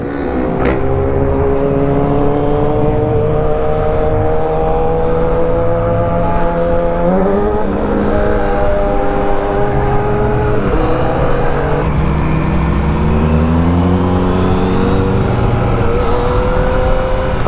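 A 2016 Yamaha FZ-09 motorcycle engine revs up and down continuously, its rising and falling harmonic whine loud and close throughout, with no talking.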